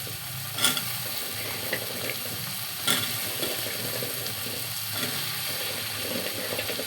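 Sweet pumpkin stirred into a pan of frying tiny local shrimp, giving a steady close sizzle broken by a few scraping clatters of the spoon against the pan.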